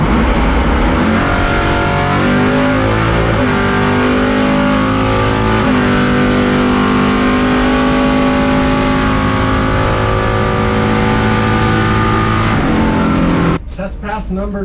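A 700-horsepower Chevrolet C10 truck makes a drag racing pass, its engine roaring loud and close with rising pitch through repeated gear changes before cutting off abruptly near the end.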